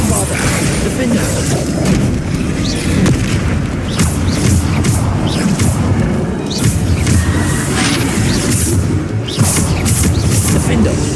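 Spell blasts booming and crashing during Hogwarts Legacy combat, a dense, loud and continuous barrage of impacts and rumbles with a voice calling out over it throughout.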